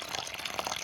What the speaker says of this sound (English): So still, we need more hot water.